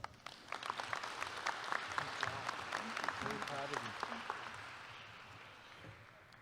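Graduation ceremony crowd claps in a steady, moderately distant round of applause, with some voices and crowd noise mixed in, fading gradually toward the end.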